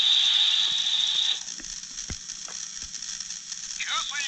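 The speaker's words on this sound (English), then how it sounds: "And it makes steam sounds." A Tomy Plarail action rail station for a C62 steam locomotive toy set lets out a loud, steady steam hiss for just over a second, then drops to quieter background noise with a few faint clicks and brief chirps.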